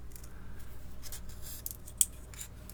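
Scissors snip paper shingles to shape for a handmade fairy house, with soft papery cutting strokes close by, quiet, and one sharper snip near the end. No talk.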